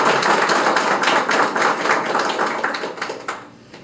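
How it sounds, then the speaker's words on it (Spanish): A crowd at a political office opening applauds warmly and loudly for nearly four seconds, the clapping thick and continuous before thinning out and fading at the end. "Quiero otro fuerte aplauso porque de verdad lo merece."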